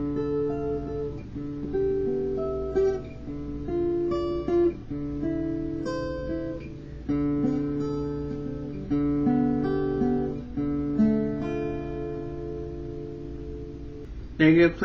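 Electric guitar plays a riff, ringing repeated phrases with sustained chords and single-note lines, steady and close throughout.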